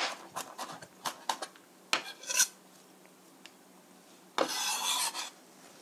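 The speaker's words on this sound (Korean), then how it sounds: "이렇게 얇게 동글동글하게 썰으신 다음 다져주세요" Thinly sliced garlic being minced with a knife on a cutting board, a series of scattered light chops and taps followed by a longer scraping rasp, close and fairly quiet, with no talk.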